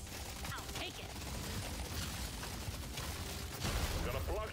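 Fast-firing electrical weapons shoot continuously in Deep Rock Galactic Survivor, a dense steady crackle of rapid zaps and bursts that runs through the whole stretch at an even level.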